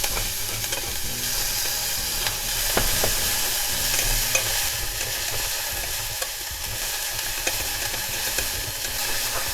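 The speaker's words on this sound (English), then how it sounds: "After frying the scallion for about a minute" Garlic and scallion frying in sesame oil in a pan, a steady bright sizzle with occasional stirring clicks, close and continuous with no talking.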